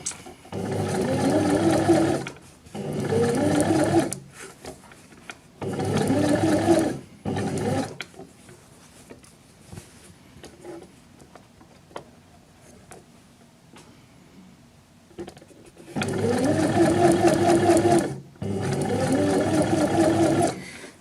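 Sewing machine stitching bias binding onto a garment neckline, running in several loud bursts of steady mechanical whirring with quiet pauses between, and no talk.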